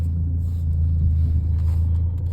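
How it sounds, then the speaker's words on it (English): A Mercedes with a worn body rolls around the block, its engine giving a steady, low rumble from inside the cabin, with no voices. "Take it for a little spin around the block."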